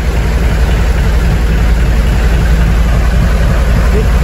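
A brand-new engine on a wooden bangka fishing boat runs steadily up close, giving a loud, continuous low rumble with a constant idle-like throb and no breaks.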